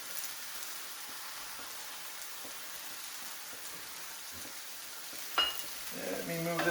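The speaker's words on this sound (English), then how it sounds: "We're going to pan toast." Bread toasting in a pan for keto burger bennies gives a faint, steady sizzle; near the end comes a clatter and a brief scrape of the pan being shifted.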